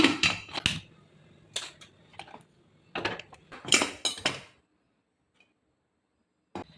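Metal lid clattering onto a biryani pot in a home kitchen for Kerala-style chicken biryani, several sharp clinks and knocks in bursts, then quiet with one last tap.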